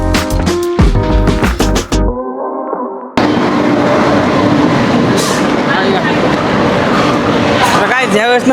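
A passenger train arriving at a station, heard as a loud, sustained broadband rumble and roar close by, with people talking at the start and again at the end.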